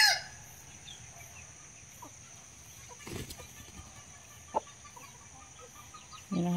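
A hen clucks softly in a quiet farmyard, with a few brief sharp bird calls and faint background noise.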